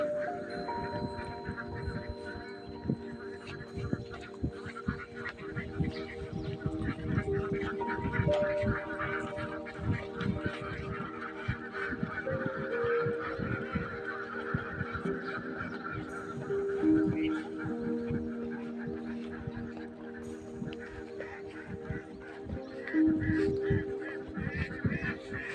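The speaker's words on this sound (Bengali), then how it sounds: "রুস্তম, এই হাঁসের মধ্যে মেহেদি কয়টা থাকতে পারে, মদ্দা কয়টা থাকতে পারে?" Ducks on a farm beside a baor lake in Jessore, Bangladesh, call in a steady chorus of honking quacks that runs throughout, with people talking over them outdoors.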